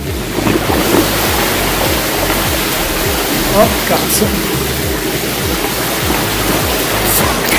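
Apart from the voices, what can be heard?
bicycle riding through deep flood water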